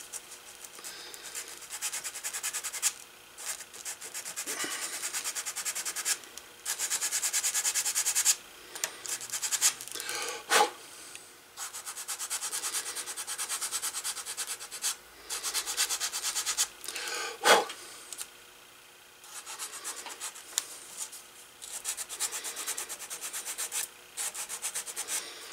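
Leather belt rubbed with 220-grit sandpaper backed by a piece of plastic coat hanger, giving soft, irregular scratchy strokes that stop and start, fairly quiet and close.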